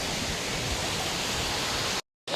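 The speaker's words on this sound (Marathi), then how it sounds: "इथे सगळे धबधबे वगैरे आहेत." Waterfalls at Malanggad fill the clip with a steady, broad rush of falling water, loud and unbroken, before a sudden brief dropout near the end.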